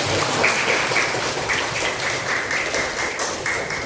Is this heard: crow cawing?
no